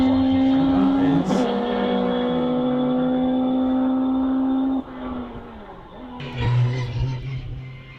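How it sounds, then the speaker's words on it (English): A sprint race car at the Llandow circuit in the British Sprint Championship revs hard at the start line, then launches away with a rising engine note and brief tyre noise, fading as it pulls into the distance. "I heard the car go off the line there"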